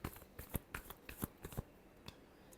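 Tarot cards are shuffled up close in a quiet room, giving a series of soft, irregular riffling and flicking bursts that stay faint, with no talk.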